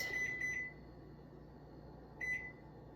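A kitchen timer is set while making sourdough bread, giving short high electronic beeps: a quick cluster at the start and another brief beep about two seconds later, close and clear over a quiet room.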